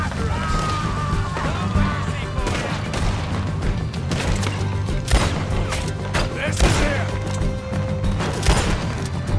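Dense gunfire from the Wild West game Red Dead Redemption 2, with repeated sharp shots and crashing impacts arriving in quick succession around a barn shootout, over a continuous low rumble and mixed with talking.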